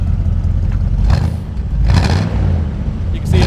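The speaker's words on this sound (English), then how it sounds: "Go ahead and rev it up a little bit." A 1972 Chevrolet C10 pickup with dual exhaust rumbles at close range, its engine rising in two or three brief revs over a steady low idle.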